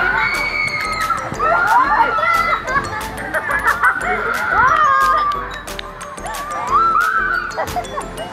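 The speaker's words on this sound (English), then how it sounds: "You can hear my friend screaming now." High-pitched screams and shrieks from riders on an amusement park ride at Wonderla rise and fall repeatedly over a noisy crowd, loud and close, with several voices yelling together.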